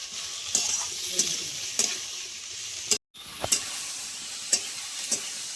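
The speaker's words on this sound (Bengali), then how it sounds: "পেঁয়াজ কুচি, গাজর, টমেটো সব একসঙ্গে দিয়ে দেবো। দিয়ে ভালো করে ভেজে নেবো আগে।" Chopped onion, carrot and tomato fry together in a pan for a roti roll filling, giving a steady sizzle broken by a few sharp scraping stirs of a spatula and one brief pause.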